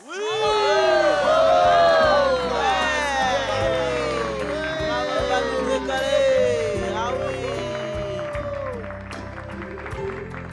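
A lively crowd claps and cheers loudly, with excited shouts and whoops rising over steady applause throughout.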